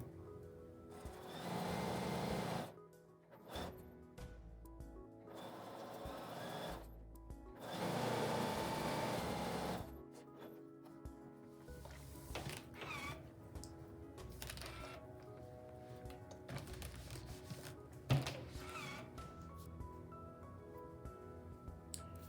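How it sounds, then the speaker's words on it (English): A domestic sewing machine stitches a small fabric chimney piece onto a quilt block: two longer steady whirring bursts, then quieter intermittent running and handling, with no talking. "then I'm going to sew the chimney on"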